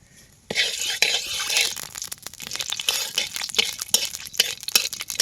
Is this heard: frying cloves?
yes